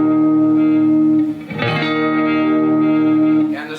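A distorted electric guitar chord from a song, sustained with heavy effects and reverb, with a second strum partway through and a thick ringing tone throughout.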